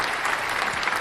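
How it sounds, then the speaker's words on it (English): A studio audience on a talk show applauds the arrival of a guest, giving a short burst of loud, continuous clapping throughout. "Oh, applause. I like that."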